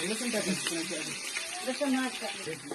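Bhaji fry in hot oil with chopped pigeon peas, peanuts and spring onion, making a constant bright hiss heard under a person talking throughout.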